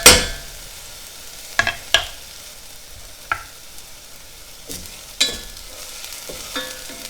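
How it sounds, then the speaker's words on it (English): Onion sautés in a pan for risotto, a soft sizzle punctuated by sharp, spaced scrapes and knocks from a flat, square-topped wooden paddle stirring around the edges, loud and close with no talking. "Saute the onion."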